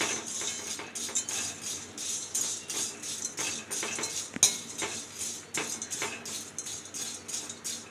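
Semolina (rava) being dry-roasted and stirred in a pan, with steady scraping and clinking of a metal spoon against the pan in quick irregular strokes, close and continuous with no talk.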